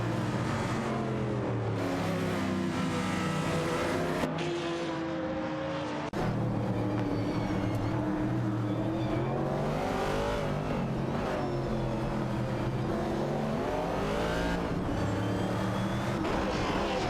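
Race cars in a racing video game roar continuously as engines rev and accelerate, pitch rising and falling through gear changes, loud and unbroken throughout.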